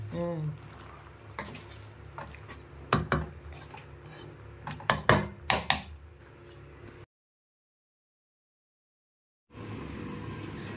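Metal clanks and clatter as a lid is set onto a pot of simmering Coimbatore-style chicken gravy, several sharp knocks close by, then a brief silence before a steady low kitchen hum returns.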